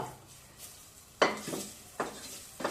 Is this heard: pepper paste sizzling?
yes